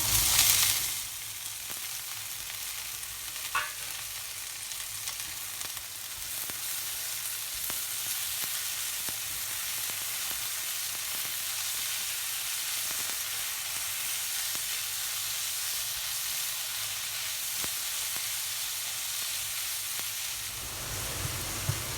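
Strips of paneer sizzle in a hot pan, a steady close hiss that carries on unbroken for about twenty seconds, with faint occasional clicks and no talking.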